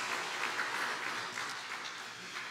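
Soft, steady applause from a church congregation during a Sunday worship service, a continuous wash of clapping that stays fairly far off and even throughout.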